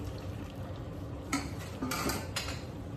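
Shrimp and pea risotto being stirred in a pan: a soft low bubbling bed with a few clustered scraping strokes of the spoon against the metal, fairly quiet and close.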